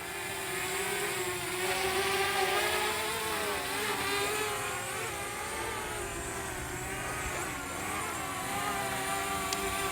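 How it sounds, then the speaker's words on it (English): Small Contixo F31 GPS drone with its motors spinning in flight, a steady whirring buzz with wavering pitch that holds continuously at moderate loudness, shifting slightly as it maneuvers. "I'll bring them closer to me in a minute and then you can hear the motors"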